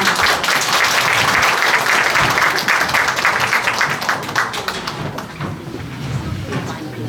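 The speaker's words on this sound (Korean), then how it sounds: "멋진 연주 함께 해주신 오세철 회장님께 다시 한번 큰 박수 보내주시기 바랍니다" At a Korean book launch, the audience gives a big round of applause after a performance. The clapping is loud and dense at first, then thins toward the end as voices come through.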